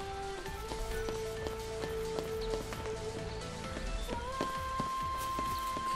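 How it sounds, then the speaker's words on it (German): Rain falls steadily in Final Fantasy XIII, a constant patter of drops spread over tonal game music with sustained notes and plucked accents, with no talking. "Regenwetter."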